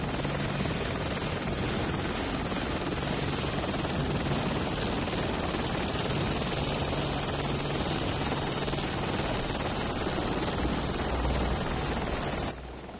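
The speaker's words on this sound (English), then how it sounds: "Sir, there's a helicopter." A helicopter drones steadily nearby, its rotor thrumming in a constant noisy roar that cuts off abruptly at the end.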